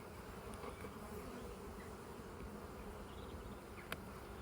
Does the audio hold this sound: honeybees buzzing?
yes